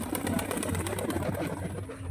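Freshly released pigeons beat their wings in a dense, continuous flutter, with soft cooing mixed into the steady flapping close by.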